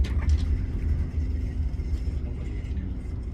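Car rolling over a cobblestone street in Paris, a steady low rumble with a faint rattling texture, heard from inside the vehicle, continuous and even.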